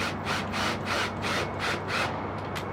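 A CBL fitting is twisted slowly onto a wire braided hose held in a vise, producing a rhythmic scraping and rasping that repeats about every half second, close and steady, with no talk.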